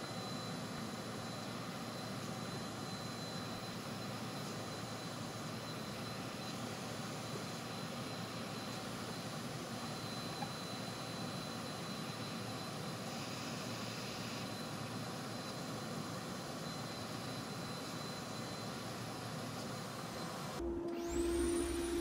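Router table with a roundover bit and a faulty speed controller, running as a steady, loud whine with broadband hiss and a fixed high tone, ending in a brief change near the end.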